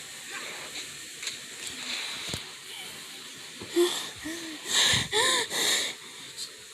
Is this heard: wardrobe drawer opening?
no